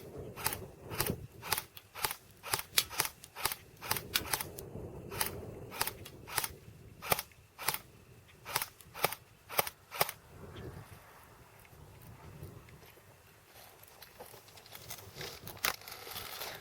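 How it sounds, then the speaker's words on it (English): A Cybergun AK47 AIMS blowback airsoft rifle is fired from the hip: a quick string of about twenty sharp, loud snapping shots in uneven bursts, then a quieter stretch with a few faint clicks. "I'm hip firing right now."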